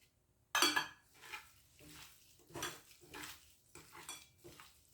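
A bowl of beef marinade with cornstarch is stirred with a utensil, giving a sharp first clink and then a run of scraping, clattering strokes that stay close and moderately loud, with no talk.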